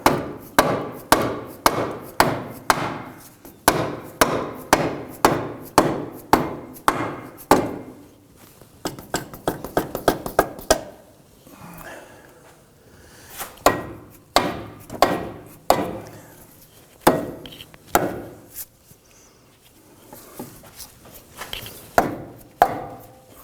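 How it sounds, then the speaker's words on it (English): A hammer knocks down a rear control arm on a 2005-2009 Subaru Legacy, striking metal in rapid bursts of sharp, ringing blows with short pauses between volleys. "let's go ahead and knock down the control arm in the back here"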